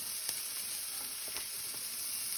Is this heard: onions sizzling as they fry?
yes